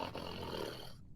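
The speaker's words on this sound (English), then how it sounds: "Loud, deep, grumbly snoring sound." Loud, deep, grumbly snoring echoes from the center of a cavern in a fantasy tabletop game scene. It is a single continuous rumbling snore heard up close that cuts off abruptly.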